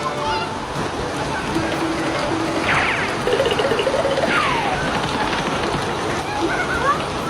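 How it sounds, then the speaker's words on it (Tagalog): Rain pours steadily in front of a house with splashing and sloshing water close by, while children playing in it call and talk over it. "Ang sarap naman maligo ng ulan, Mateo"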